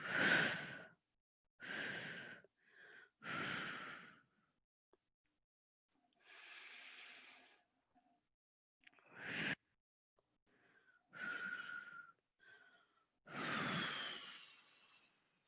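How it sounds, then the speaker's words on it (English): A person breathes out in three separate exhalations after deep inhalations during a seated chair exercise session, each breath a soft, close hiss separated by short silences. "take a deep breath in to fill our lungs, and then we're going to let our breath out in 3 intervals"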